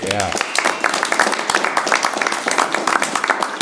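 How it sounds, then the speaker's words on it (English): Audience at a technical college board meeting applauding a retiring board member, a dense steady round of clapping across the room, with a voice briefly heard at the start. "can we give him a round of applause"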